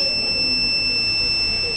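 A driver drowsiness alarm holds a steady electronic tone without a break, two high pitched lines ringing continuously over a low background hum.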